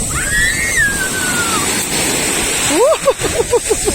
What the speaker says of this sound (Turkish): biraz dalgalı oldu bugün.